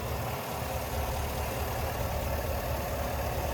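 A 2023 GMC Yukon XL Denali's 6.2 liter V8 idles steadily under an open hood, a constant low rumble heard up close with no voices.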